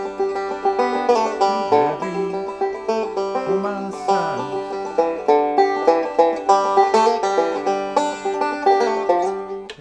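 A bluegrass banjo rolls through a Nine Pound Hammer break, ending in a fill-in lick. Picked notes ring close and steady for about ten seconds, with bright, rhythmic plucks and no voices.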